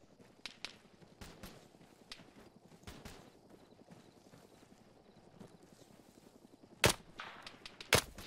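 Two sharp gunshots from a player shooting out light bulbs in Arma 3, each a loud crack standing out over a quiet background of soft footsteps and faint movement noise, the shots spaced about a second apart near the end.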